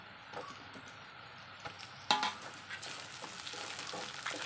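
Mango pieces going into a pan of softened onions and green chilies for a Kerala-style mango curry, sautéing with a low sizzle and a few sharp stirring clatters, fairly quiet and with no talking.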